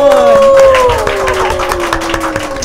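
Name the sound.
audience applause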